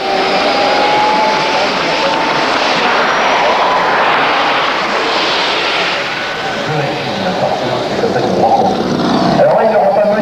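Jet engine of a Bob Violett Models T-33 Shooting Star model aircraft roars loud and steady throughout, a continuous broadband whoosh with a faint whine, with a person talking over it.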